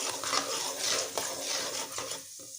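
Mustard seeds are stirred through a pan with turmeric while making lemon rice, giving soft scraping spoon strokes over a faint sizzle that trails off near the end, with no voices.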